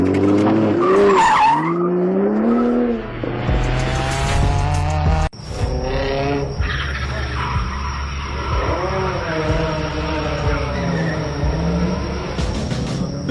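A race car on a circuit accelerates hard with screeching, skidding tires and a roaring engine. The sound is loud and continuous, with shifting squeals and a sharp cut partway through.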